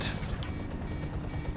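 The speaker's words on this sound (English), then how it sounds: "I think my helicopter's had it." A damaged helicopter in the video game Defend Titan drones steadily with a close, continuous engine and rotor rumble, with no voices.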